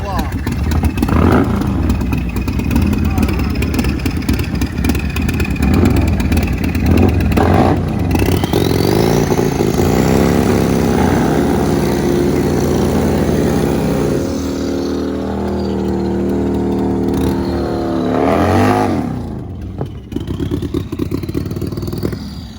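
Harley-Davidson drag racing motorcycles, including an Extreme Outlaw class bike, thunder down the track in a loud, sustained roar with rising engine pitch as they accelerate, while a commentator talks over it.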